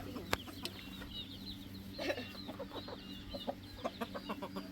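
Chickens clucking softly in short, scattered bursts at feeding time, with a faint low hum running underneath throughout.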